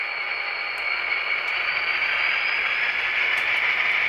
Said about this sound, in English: we'll kick that up a little bit so you can hear the prime mover in motion